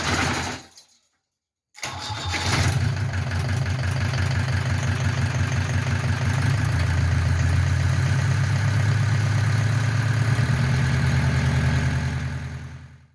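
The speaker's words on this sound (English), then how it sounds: "this is the 240D 1980 OM616 engine" A 1980 Mercedes-Benz 240D's OM616 diesel engine cranks briefly after a short silence, catches, and settles into a steady rough idle with a clattering low rumble.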